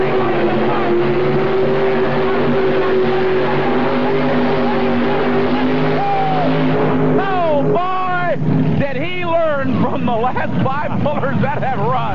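A 1986 NTPA tractor pull at Indy, with a pulling tractor's engine roaring loud and steady for several seconds, then breaking up into warbling, sweeping tones while an announcer talks over it.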